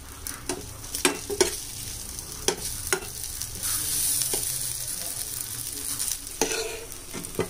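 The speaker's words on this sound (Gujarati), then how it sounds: "બસ હવે આને મિક્સ કરી લેશું સરખી રીતે અને ધ્યાન રાખવું બહુ આને હલાવવાનું નથી આપણે" Rice pulao being stirred and mixed in a pan, with irregular scraping and clinking strokes of a spoon over a soft continuous sizzle, close and moderately loud.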